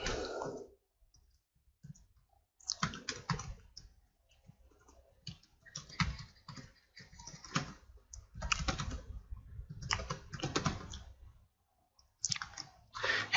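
Keys tapped on a computer keyboard while entering a title, quiet bursts of rapid clicking separated by short pauses, close and clear with nothing else behind them.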